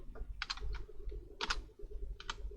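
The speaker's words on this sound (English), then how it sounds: "on your keyboard, press Alt H I and then choose R to insert a row" Someone types a shortcut on a computer keyboard while working in a spreadsheet, producing three quick clusters of close, crisp key clicks spaced about a second apart over a low steady hum, with no talking.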